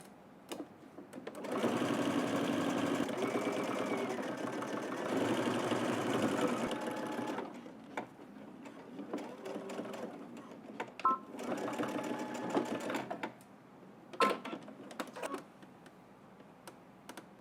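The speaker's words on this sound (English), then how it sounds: "So let's head to the machine. We're going to stitch, starting here, going all the way up." A sewing machine stitches fabric in quick runs of rapid mechanical whirring, stopping and starting several times with short pauses, handling clicks and faint quiet between bursts.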